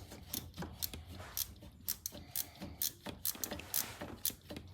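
Ratchet clicking away on a car's engine pulley during an auxiliary drive belt change on a Honda Jazz / Fit 1.4 iDSI, with short bursts of quick metallic clicks and ticks repeating at close range and no talking.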